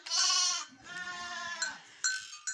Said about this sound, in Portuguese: Aqui está algumas cabras amojadas, as marrãs amojadas de pouco